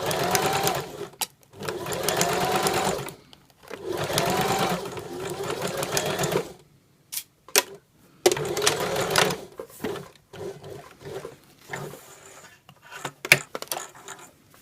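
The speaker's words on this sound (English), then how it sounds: "when I'm sewing on the bias tape, going over the pins can create a little bump in my stitch line" Sewing machine running bias tape along a Hong Kong seam finish, several close bursts of rapid mechanical stitching separated by pauses, with small clicks and handling noises in the quieter stretches.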